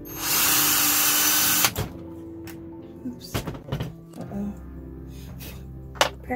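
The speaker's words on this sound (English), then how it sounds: "Now I want to drill into here" A power drill whirs loudly for under two seconds while drilling into wood, then stops, followed by scattered thumps, knocks and handling noises.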